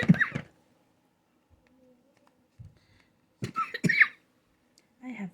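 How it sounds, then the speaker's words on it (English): A person with a dry cough lets out two short bursts of coughing separated by quiet, with a faint thump in between and a small throat sound at the end. "I have this nasty cough, dry cough I always have"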